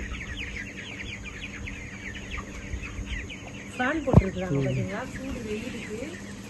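Chickens cluck softly and repeatedly nearby, with one louder squawking call rising above the flock partway through.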